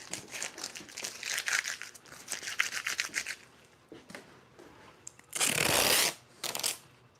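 Adhesive tape crinkles and rubs while being handled on a handcrafted skateboard deck, with dense rustling for several seconds followed by two sharp, louder ripping bursts near the end.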